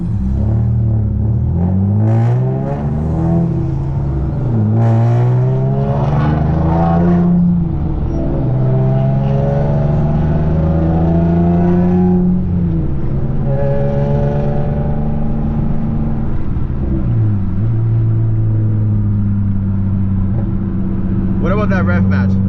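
Nissan Maxima with a six-speed manual swap pulling hard through the gears, the engine note climbing and dropping with each shift in a loud, continuous close-up roar, with people talking over it.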